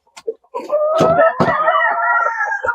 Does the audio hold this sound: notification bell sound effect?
no